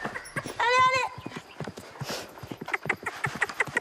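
A small herd of female donkeys walks along, hooves clip-clopping in an uneven rhythm close by, with a brief braying call near the start and a person calling out over the steps.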